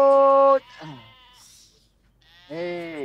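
Sheep bleating in a rural herding scene, a loud harmonic bleat at the start, then softer calls and another strong bleat near the end, with a voice calling to the flock amid the animals.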